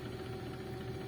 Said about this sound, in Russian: при запуске двигателя на нейтрале, при отпущенной педали сцепления, у нас в коробке идет вращение